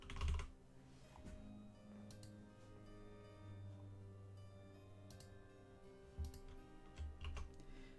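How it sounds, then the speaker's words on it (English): Keys clatter on a computer keyboard during a digital line-art cleanup session for coloring pages, in scattered close clicks and short bursts, fairly quiet, with no talking. "I can't type with a Wacom glove on"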